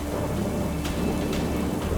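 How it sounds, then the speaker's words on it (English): Steady heavy rain pours through a thunderstorm at Death's Door Passage, a dense broadband hiss with faint rumbles of thunder beneath and no voices. "Thunderstorm met us at Death's Door Passage."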